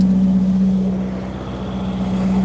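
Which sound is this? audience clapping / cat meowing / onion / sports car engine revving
sports car engine revving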